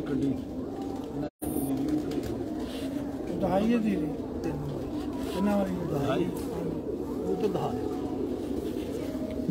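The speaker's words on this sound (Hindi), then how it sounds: "बड़ा ही परफेक्ट कबूतर है" Heera Laal breed pigeons coo in low, repeated, wavering calls close by, under someone talking almost throughout.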